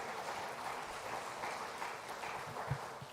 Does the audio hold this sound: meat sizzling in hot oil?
no